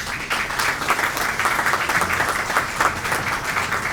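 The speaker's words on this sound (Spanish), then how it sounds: "Un fuerte aplauso" Sustained applause from an audience at a business breakfast on natural gas, steady and fairly loud throughout with no break.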